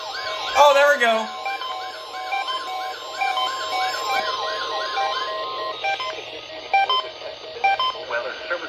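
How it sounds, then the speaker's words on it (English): A National Weather Service warning alarm tone, opening with a short garbled data burst, followed by a repeating warbling siren-like tone, then a run of steady broken beeps, all clear and prominent from a radio-style broadcast. "Weather Service warning alarm tone."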